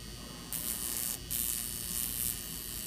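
High-voltage coil in a home workshop giving an electrical buzz and hum that surges on and off in close, steady bursts with a brief dropout, with no talk.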